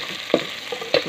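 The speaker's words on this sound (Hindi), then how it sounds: "अब गोश्त डाल दिए ताकि गोश्त अच्छी तरीके से भुना जाए।" Meat browns in a pan with onion and fresh garlic for seviyan pulao, a steady close sizzle broken by two sharp spoon scrapes against the pan.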